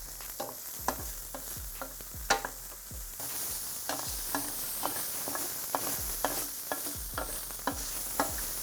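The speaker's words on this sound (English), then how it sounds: "let's start sauteing these on a nice high flame" Steady sizzling of mushrooms sautéing in a hot pan over a high flame, punctuated by regular clinks and scrapes of stirring, close up with no voices.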